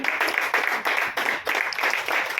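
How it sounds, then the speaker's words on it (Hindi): Loud applause fills a Hindi poetry gathering (kavi sammelan) in Delhi as a poet is welcomed onto the stage, a dense continuous wash of many hands clapping that swells in waves, with no speech over it. "जोरदार तालियों से स्वागत।"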